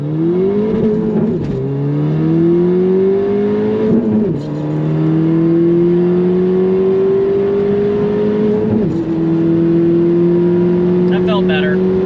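A Ford Fiesta ST on an E30 tune pulls hard through a drag run, the engine note climbing loudly in each gear, broken by about three quick shifts before rising again.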